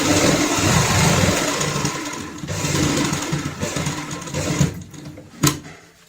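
Sewing machine stitching a fabric hand purse, a steady close whirring run that slows, pauses and starts again, with a sharp click near the end.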